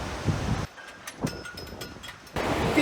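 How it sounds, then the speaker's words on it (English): Strong wind gusts across the grounds of Kylemore Abbey in Connemara, roaring and buffeting loudly at the start and end, with a quieter lull between. "This would be the windiest day we've had so far"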